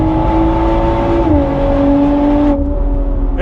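A 2024 BMW M340i accelerates hard on a track, its engine a loud, close, continuous drone that climbs in pitch, dips briefly at a gear change, then drops suddenly near the end.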